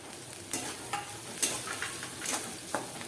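Finely chopped cauliflower and curry leaves fry in a pan under a constant hiss of sizzling oil. A spoon stirs them with a series of light scrapes and taps.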